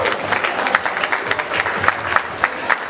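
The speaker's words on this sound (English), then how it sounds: "give her a round of applause of encouragement" A small audience claps encouragingly for a singer about to perform, a brisk, close patter of hands with individual claps audible, steady and moderately loud for a few seconds.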